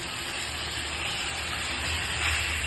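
Washed chicken pieces hit hot oil in a home kitchen pan, giving a continuous broad sizzling hiss that stays steady and fairly soft throughout, with no voices.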